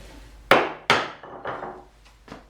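Chisel being struck with a mallet on a wooden Roubo-style workbench: two sharp, loud wooden knocks followed by several softer taps, each ringing briefly and fading, with no talk.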